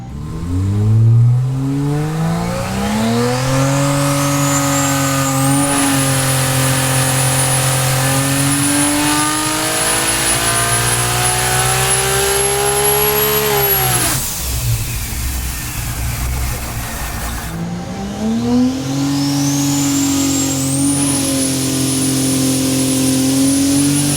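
Toyota 2JZ engine on a dyno screaming up to about 1340 horsepower, loud and close, climbing in a long rising pull to a high sustained wail, cutting off, then a second run rising again.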